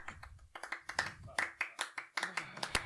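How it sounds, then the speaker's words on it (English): A few hands clapping in quick, uneven bursts, close and fairly quiet, each clap a sharp separate crack rather than a crowd roar. "Insert clapping noise here."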